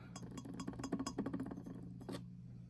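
A glass bottle of bath oil is handled up close, giving a run of quiet, irregular clinks and taps over a low steady hum.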